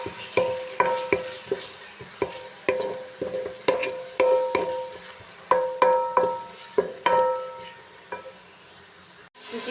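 Chopped green chilies, tomato and garlic-ginger paste sizzle softly in a pot while a metal spoon stirs and scrapes the bottom in repeated clinking strokes.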